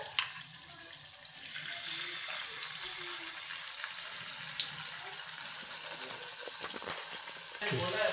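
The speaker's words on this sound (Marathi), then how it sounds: "मीडियम आचेवरती हे छानपैकी गोल्डन ब्राऊन कलर वरती आपल्याला हे तुरे छानपैकी तळून घ्यायचे आहेत" Cauliflower florets for gobi manchurian deep frying in oil over medium heat, a steady dense bubbling sizzle running throughout with a few faint clinks, close and moderately loud.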